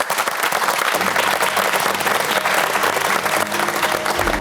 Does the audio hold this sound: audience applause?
yes